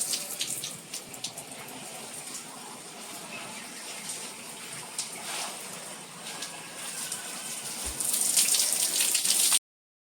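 Steady water splashing and pattering, rising into a heavier gush near the end before cutting off.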